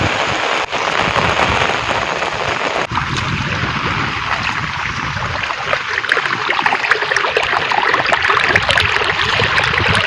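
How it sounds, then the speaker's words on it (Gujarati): Heavy, steady rain pours over village farm fields, a dense continuous hiss with pattering drops and running water, loud and close throughout with no talk. "હજી વરસાદ ચાલુ જ છે બંધ નથી થયો"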